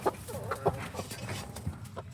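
Chickens on a small farm with goats cluck in short, uneven bursts close by, with soft scuffling between the calls.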